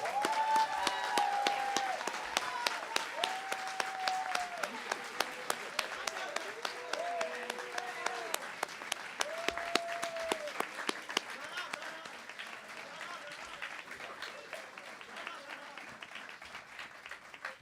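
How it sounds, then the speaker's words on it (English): A crowd claps through a long, dense round of applause at a high school commencement ceremony, with scattered whoops and cheering voices over the clatter, thinning slightly toward the end. "Let's give them a big round of applause."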